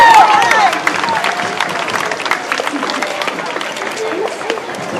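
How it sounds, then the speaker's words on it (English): Crowd applauding along a street parade for Cleveland One World Day, a dense patter of clapping that starts loud and then settles into steady lighter applause, with voices and a brief whistle mixed in. "Round of applause!"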